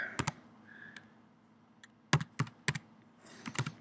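Several bursts of keystrokes on a computer keyboard, clustered clicks with short pauses between them, close and fairly quiet, with no talking.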